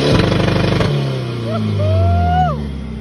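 A vehicle engine revs hard in a short burst and then settles to a steady idle, loud and close during a show of the car, with voices talking over it.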